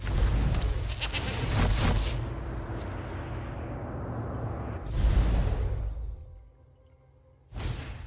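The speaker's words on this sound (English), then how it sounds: "Goat!" Goat bleats from the Magic: The Gathering Arena card game, several loud bleating cries with a sharp swoosh between them, then a brief quiet gap before another burst at the end.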